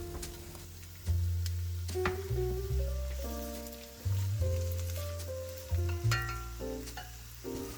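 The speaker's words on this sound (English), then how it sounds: "Once your pan is hot, add your onions and cook for about 3 minutes." Onions fry in hot olive oil in a pan, giving a continuous soft sizzle that sits beneath louder music with clear sustained notes.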